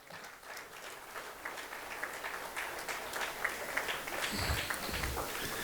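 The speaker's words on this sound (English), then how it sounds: "Ms. Konta, everybody, can we please clap?" Faint, distant clapping from a seed trade panel audience, building slightly toward the end, heard through a room's background noise.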